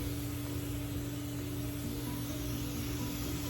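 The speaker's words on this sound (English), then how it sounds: "I'm going to mist this with the mister that I have on top of my" A hose-head mister sprays a fine, steady hiss of water over outdoor seed trays, constant and fairly soft with no break.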